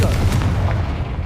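Confringo, the fiery blasting spell in the Hogwarts Legacy video game, lands as a heavy, booming explosion with a rumbling low tail, loud and close throughout the short burst.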